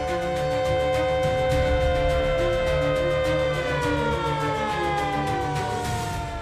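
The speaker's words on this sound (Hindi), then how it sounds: "इन जगहों पर सायरन बजेगा, बिजली कटेगी और लोग छिपने के लिए सुरक्षित जगह पर जाएंगे" A loud civil defence siren wails during a mock drill in India, its sustained tones gliding and wavering over a steady drone, carrying strongly with no voices over it.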